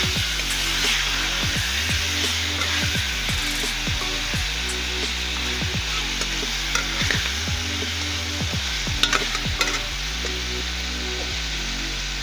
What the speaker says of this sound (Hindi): चिकन फ्राई कर रही हूँ।